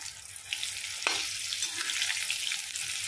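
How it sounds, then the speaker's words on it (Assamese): Steady sizzling of eggplant frying in hot mustard oil, with a brief scrape or stir partway through; no talking. "ইয়াত বেঙেনাখিনি মই ভাজি আছোঁ"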